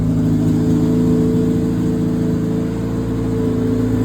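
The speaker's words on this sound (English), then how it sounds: "Now you hear the car's idle change a little bit?" A car engine with a Haltech ECU idles steadily nearby during ignition timing adjustment, its low hum shifting slightly in pitch and rhythm partway through.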